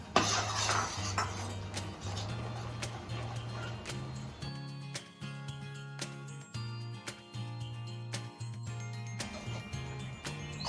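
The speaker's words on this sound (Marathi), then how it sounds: "जसं आपण बेसन फेटतो तसं हे पीठ फेटून घ्यायचंय" Chakli flour being stirred and beaten into boiling water in a pot, a steady clatter of a utensil knocking and scraping against the metal, close and fairly quiet, with rhythmic strokes throughout.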